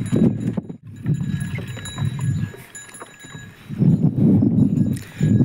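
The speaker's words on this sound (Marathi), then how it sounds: "आपल्या गाई आल्या पाण्यावर" Cows on a farm walk to water, hooves clopping in uneven bursts on hard ground nearby, with quieter pauses between steps and faint high tonal background sounds.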